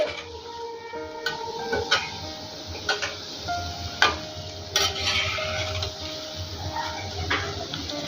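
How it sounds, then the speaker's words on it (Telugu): Crispy snacks deep-frying in hot oil with a soft steady bubbling hiss, punctuated by sharp clinks and scrapes of a ladle stirring them in the pan, close and moderately loud. "మంచి కలర్ వచ్చేంత వరకు ఫ్రై చేసుకోవాలి వీటిని వేసిన వెంటనే కదిలించకండి"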